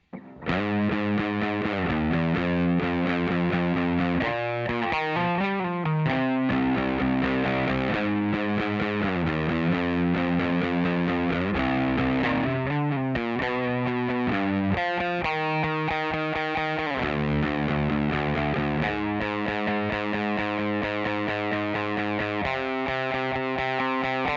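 A heavily distorted electric guitar plays a repeating chorus riff, chunky chords, loud and steady throughout with no voices.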